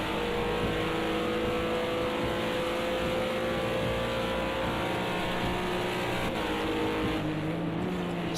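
A GT3 race car in a sim racing game holds full power past Parabolica, its engine a steady, loud, continuous drone with a faint pitch shift near the end.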